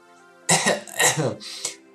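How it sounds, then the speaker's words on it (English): A voice produces a few quick, close coughs in a short burst, sounding performed rather than natural, then falls quiet. "a few quick coughs escaped her lips"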